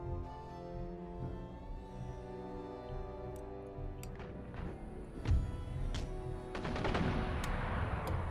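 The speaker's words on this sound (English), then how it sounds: "My guns engage the troops as they leave the city" Musket and cannon fire between troops in the strategy game Empire: Total War, with scattered sharp reports over a bed of orchestral music and a volley of rapid overlapping shots.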